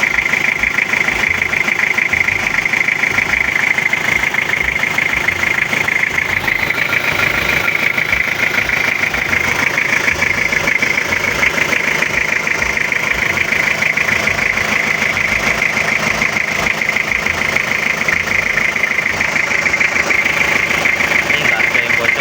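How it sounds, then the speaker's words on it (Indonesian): A 2002 Toyota Kijang LSX diesel engine idles steadily for a long stretch, a loud, even rattling hum with no change in pace, while a person talks over it. "mesin dieselnya Kijang itu kalian bisa dengerin sendiri guys kalau masih normal atau enggak"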